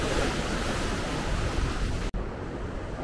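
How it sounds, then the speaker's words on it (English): Ocean surf at the beach in El Tunco, El Salvador: a constant broad wash of breaking waves with wind buffeting the microphone, loud and close, broken by a brief cut near the end. "I'm gonna get in the water a little bit, enjoy this beautiful ocean."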